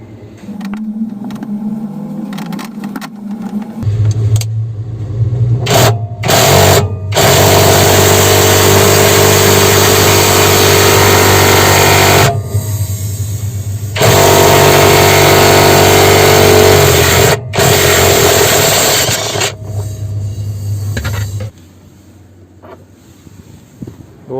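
A Makita cordless impact wrench whirs and hammers while removing nuts from a washing machine, loud sustained bursts of rapid mechanical rattling broken by short pauses, close up and with no talking.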